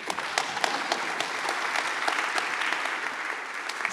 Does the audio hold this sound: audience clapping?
yes